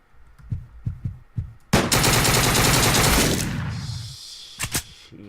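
A Tommy gun fires in the video game Deadbolt. A few soft thumps come first, then a loud, sustained burst of rapid automatic fire lasting about two seconds that fades into a ringing tail, followed by a couple of sharp knocks.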